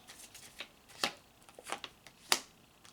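Deck of Soul's Journey oracle cards being shuffled, giving a few separate crisp riffling bursts with quiet gaps between them, close and moderately soft, with no talking.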